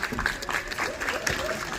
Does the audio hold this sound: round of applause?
yes